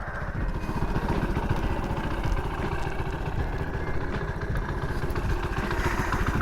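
A Honda CT-70 minibike with a swapped engine runs steadily close by. It makes a continuous, loud, rapid putter with some mechanical clatter, and nobody talks over it.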